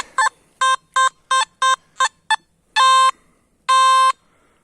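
A metal detector sweeping a forest floor gives a run of sharp electronic beeps, several short tones followed by two longer sustained ones, loud and close with no talking.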